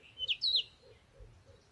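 A cartoon parrot gives two quick high chirping calls close together near the start, fairly loud, then the sound fades to faint low background.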